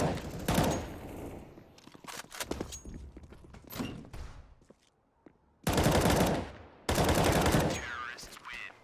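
Gunfire in the shooter CS:GO, including M4 rifle bursts: scattered single shots and short volleys, then two long loud sustained bursts near the end, with a faint voice underneath.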